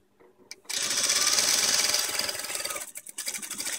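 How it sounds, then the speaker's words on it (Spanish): Sewing machine stitching a fleece children's blanket, a fast steady mechanical whir that starts abruptly, runs continuously and loud up close, then briefly stops and restarts with stuttering bursts. "Y seguimos cosiendo"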